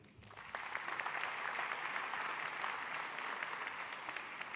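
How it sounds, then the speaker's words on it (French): Audience at a general assembly in Nantes breaks into sustained applause, a dense, even wash of clapping that swells quickly and holds for several seconds. "On peut les applaudir."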